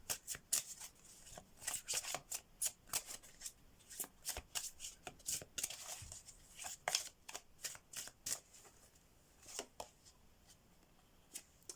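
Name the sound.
shuffling oracle message cards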